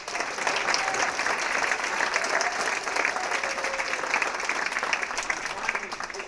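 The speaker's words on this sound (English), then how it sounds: "Big round of applause." University of Denver audience at the 4impact Challenge awards gives sustained applause for student helpers and TAs, dense clapping running steadily throughout with a faint murmur of voices beneath.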